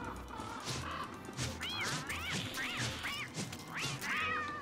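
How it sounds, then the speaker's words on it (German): A cat in the video game Don't Starve Together meows repeatedly as it is attacked, several sharp rising-and-falling cries over steady background game sounds and dull thumps. "Ich greif mal die Katze an."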